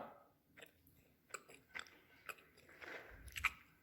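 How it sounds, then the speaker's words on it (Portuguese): Crunchy homemade bread with cheese is bitten and chewed up close, with quiet irregular crunches and soft chewing clicks spaced through the clip, louder toward the end, with no talk. "Vou comer agora com queijinho agora."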